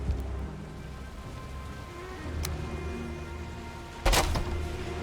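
Rain falls in the Valheim video game, a steady, even hiss of rainfall throughout, with one faint tick midway and a sharper, louder burst near the end.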